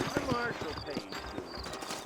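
Horses in Red Dead Redemption clip-clop at close range in a quick rhythmic patter of hooves, with a brief whinny, as a voice talks over them.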